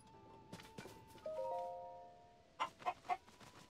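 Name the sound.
chicken clucking in Zelda Tears of the Kingdom video game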